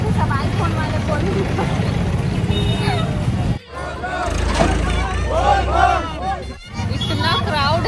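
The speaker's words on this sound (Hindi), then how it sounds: "बहुत ज्यादा भीड़ है एकदम।" A dense crowd of Kanwar pilgrims at Bhoramdev chants loudly in unison, a continuous roaring babble of many voices that briefly drops out twice before surging back.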